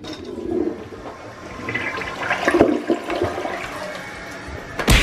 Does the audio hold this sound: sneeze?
no